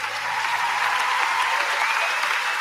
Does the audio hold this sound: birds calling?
no